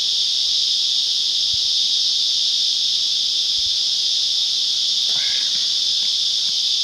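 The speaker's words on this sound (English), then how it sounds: "But you can just hear the insects buzzing around." Continuous high-pitched insect droning outdoors, steady and unbroken throughout, with a faint bird chirp near the end.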